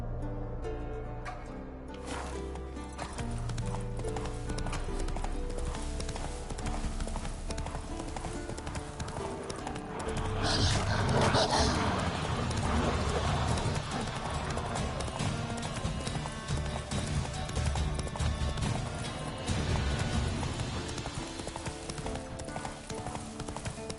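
Geralt's horse Roach gallops in The Witcher 3, its rapid hoofbeats drumming steadily for the whole stretch over a dense soundtrack and ambience that swells louder about halfway through.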